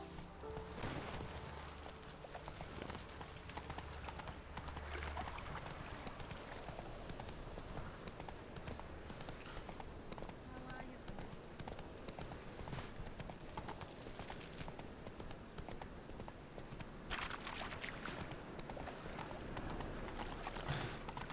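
Roach, the horse in The Witcher 3, trotting with rhythmic clip-clop hooves that repeat steadily for a long stretch over faint game ambience and background music, moderately quiet, with no talk over it.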